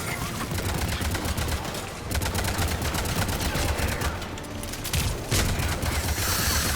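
Sustained automatic gunfire with cryo rounds in Mass Effect 3 at a fuel depot, loud and continuous, with dense rattling bursts and brief pauses between volleys.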